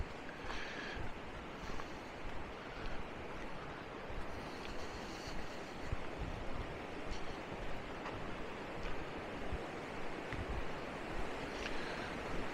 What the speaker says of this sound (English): Oh yeah, river's flowing pretty good.